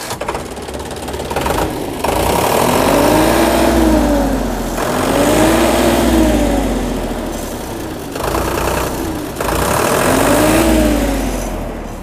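A used tractor at a tractor market in Sambhal, Uttar Pradesh, is started with its self-starter and keeps running: a loud, steady, close engine rumble with a repeating rising-and-falling whine, and no voices.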